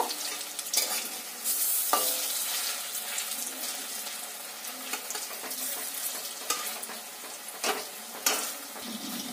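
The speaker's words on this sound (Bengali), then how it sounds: "এমন করেই আমি সব বড়াগুলোকে ভেজে নেব" Jackfruit seed cutlets frying in a pan make a bright continuous sizzle with crackling bursts, plus intermittent scrapes and taps as they are pressed and turned, close up and without talk.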